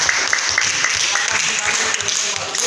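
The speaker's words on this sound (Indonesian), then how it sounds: "tepuk tangan dulu untuk kelompok 4 ya" A classroom of students claps for group 4 after their discussion presentation, a short, fairly loud run of rapid handclaps lasting under three seconds, with voices mixed in.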